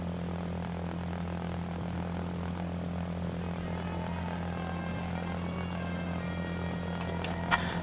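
German fighter aircraft in a video game roaring with a steady propeller-engine drone, a constant low hum holding throughout, with a brief click near the end.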